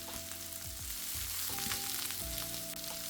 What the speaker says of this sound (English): that oil's nice and hot, and in goes them onions